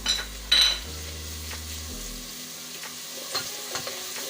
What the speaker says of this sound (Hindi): अब यहाँ पर आकर हम इसके अंदर अदरक लहसुन का पेस्ट ऐड कर देंगे